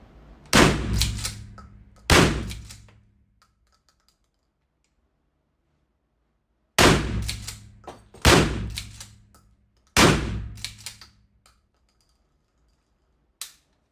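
A Hunt Group MHX 12 gauge shotgun fires five sharp, loud blasts, two close together early, then three more after a pause, each trailing off, with a faint click at the end.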